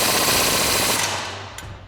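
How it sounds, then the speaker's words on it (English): A rapid, loud impact wrench rattles away close by as it tightens the 21mm lower control arm bolts on a Jeep Wrangler JK during a 2.5-inch suspension lift install, then spins down and stops. "Now we can tighten that back down using our 21mm wrench and our 21mm socket on our impact."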